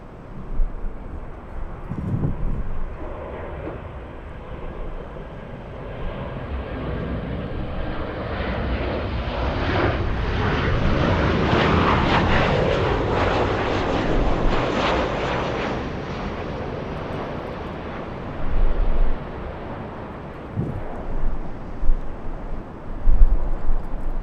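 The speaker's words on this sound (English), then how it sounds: "We have United 1689 flying in from Dallas. A 737-900, a 5-hour, 45-minute flight from Dallas." A United Boeing 737-900 landing at LAX in gusty winds: the engine roar swells to a loud broad peak midway and then fades, with wind buffeting the microphone and a few sharp bumps near the end.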